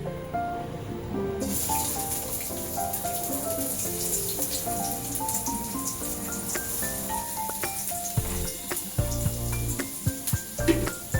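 Finely chopped onions fry in hot oil with mustard seeds in a pan, a continuous hiss and sizzle under loud background music, no voice.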